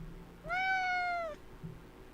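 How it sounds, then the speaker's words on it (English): A cat gives one clear, drawn-out meow of about a second, close and distinct against a quiet indoor background. "Go ahead and meow in there."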